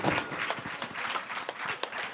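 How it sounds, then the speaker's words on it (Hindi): Audience applause at a village Ram Charit Manas recitation gathering in Piparchhedi, a dense continuous patter of many hands clapping at moderate volume throughout. "एक बार जोरदार ताली"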